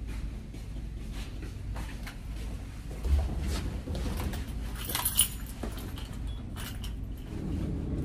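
A bunch of keys jangles and clinks repeatedly in a quiet parking area in the early morning, with scattered metallic rattles over faint background noise and no talking.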